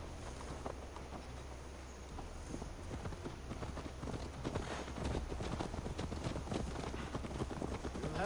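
Horse hooves clip-clopping at a steady riding pace in Assassin's Creed Valhalla, a continuous close rhythm over low outdoor ambience throughout.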